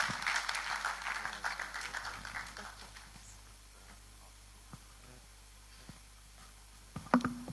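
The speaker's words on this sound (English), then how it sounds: "A round of applause until he gets here." Audience applause at a public event, a fairly quiet wash of clapping that fades after a few seconds, followed by faint scattered sounds and a brief louder bump near the end.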